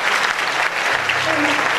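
Audience at an award ceremony applauding, dense and continuous clapping at steady loudness from start to end, filling the room.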